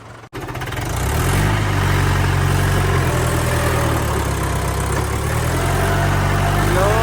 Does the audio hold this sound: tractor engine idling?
yes